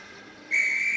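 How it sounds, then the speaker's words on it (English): A steam engine's whistle blows halfway through, a sudden sharp high steady tone that holds to the end after a quiet lead-in. "Then the whistle blew, and James thought they'd better go."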